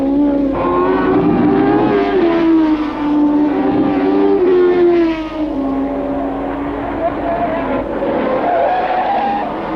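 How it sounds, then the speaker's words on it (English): Grand Prix racing cars from the Jim Clark era, including a Honda, roar past with loud, wavering engine notes that rise and fall as they accelerate, with a skid as one car spins. "Surtees spins the Honda harmlessly."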